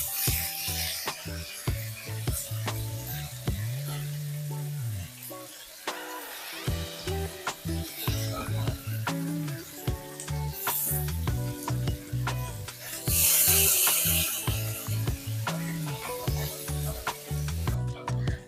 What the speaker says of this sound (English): I'm just going to put very little oil over the pan so that the sausage can cook very well.